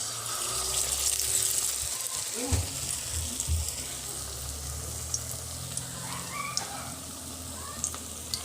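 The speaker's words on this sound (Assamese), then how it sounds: "এয়া গৰম তেলত লগে লগে দি দিম মই" Cabbage pakora dipped in besan batter sizzles in hot oil with a continuous close crackle, joined by a few clinks and knocks as the pieces are dropped in and turned.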